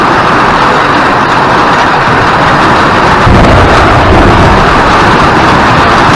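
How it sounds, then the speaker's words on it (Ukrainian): Summer thunderstorm setting in, a massive storm cloud rolling overhead with rain: a continuous loud, broad rumble of thunder and heavy rain that swells and grows louder partway through, with no voices. "І грім, і молня все в нас є."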